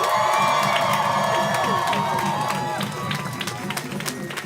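A large student rally crowd for higher education in Oregon cheers, shouts and applauds loudly, the roar easing slightly toward the end as scattered claps continue.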